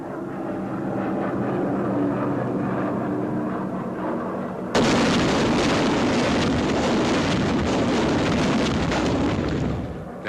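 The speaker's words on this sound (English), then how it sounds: "Another drop of the jellied gasoline bombs." Wartime air raid with M69 jellied gasoline incendiary bombs: a low aircraft drone gives way to a sudden sustained loud roar and rumble of the bombs bursting in a dense wash of noise lasting several seconds.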